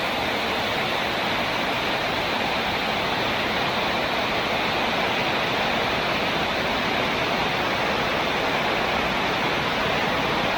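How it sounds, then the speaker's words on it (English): Heavy rain falling hard and steadily, a dense, unbroken wash of noise close by and loud, with no voices. "Well, the rain has eased off. It's still raining."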